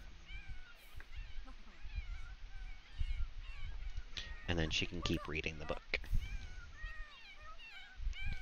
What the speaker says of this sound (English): Oh my god, the stray cat noises.